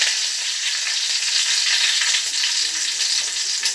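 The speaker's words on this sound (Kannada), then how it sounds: "ಅಷ್ಟು ಕಾಯಿಬೇವಿನ ಸೊಪ್ಪು ಹಾಕ್ತಿದ್ದೀನಿ" Curry leaves dropped into hot oil for a fish fry, giving a loud, continuous hiss and crackle close by with no voice over it.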